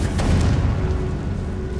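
A Confringo spell in Hogwarts Legacy sets off a deep, rumbling boom that keeps rolling in the background for about two seconds, with no voices.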